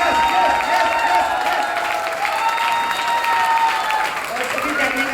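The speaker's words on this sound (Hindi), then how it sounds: "ताली जबरदस्त वाली बजा दे।" Audience applause at a birthday felicitation event, a dense steady wash of clapping with crowd noise and a faint sustained tone running through it, loud and continuous throughout.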